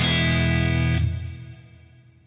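Electric guitar played through a Sonicake Levitate reverb and delay pedal, a bright sustained chord that rings out and then decays in a long, shimmering reverb tail, alone with no talking.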